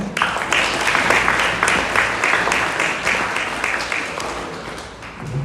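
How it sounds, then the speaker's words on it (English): Applause from the audience at a graduation ceremony after the awards, many hands clapping in a lively, rhythmic wash that gradually thins toward the end. "first of all, a round of applause"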